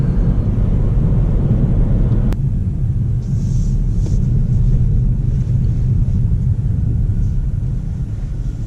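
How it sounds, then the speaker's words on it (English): A 2019 Toyota Corolla XSE hatchback on the move gives a steady low road rumble and drone with some wind noise, continuous and fairly loud, with a brief click near the start. "a fun little ride and drive in the Corolla XSE hatchback"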